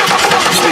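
Engine cranking over while the fuel pump runs, a loud continuous churning rumble with no break across the short stretch.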